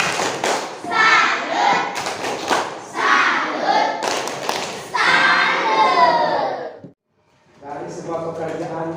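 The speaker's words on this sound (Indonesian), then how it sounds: "Kita kasih tepuk salut." Schoolchildren at a primary school in class perform a tepuk salut, a rhythmic group clapping chant, with loud close claps and shouted voices in bursts, a short pause, then more chanting.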